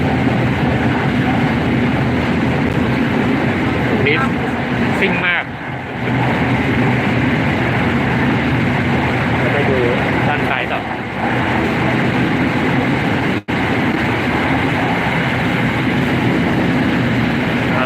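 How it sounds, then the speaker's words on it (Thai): A SRT Red Line electric commuter train runs along the track between Don Mueang and Lak Hok with a steady, loud rumbling and rattling heard from inside, with occasional voices beneath it. "รถไฟเนี่ย เขาจากข้างบนมาข้างล่างนะครับ รถก็เลยสปีดเร็ว"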